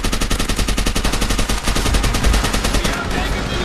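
Rapid automatic gunfire rattles in a Call of Duty match, a dense, loud, evenly spaced stream of shots that continues almost without a break.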